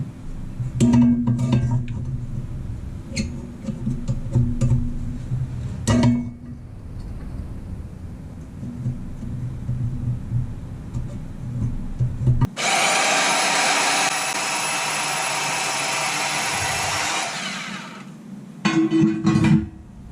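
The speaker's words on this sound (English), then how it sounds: "19 inches, we'll cut that angle iron at. Maybe I'll use the bandsaw." A bandsaw cuts through a length of steel angle iron in a shop, giving a steady high grinding whine for several seconds. Clunks and handling noises come before and after the cut.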